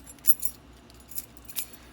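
Schlage keys handled and jangled, giving a few light metallic clinks and rattles in short bursts, close and fairly quiet over a low background hum, with no talking.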